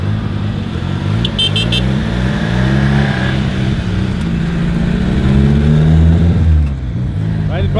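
A turbocharged Volkswagen Voyage engine pulls away from close by, a loud continuous drone that rises and shifts in pitch as the car accelerates, with brief voices mixed in.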